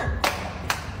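Two sharp hand claps, evenly spaced about half a second apart, close and fairly loud.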